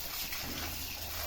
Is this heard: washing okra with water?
yes